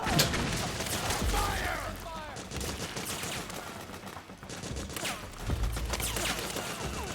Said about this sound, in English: Where are they shooting?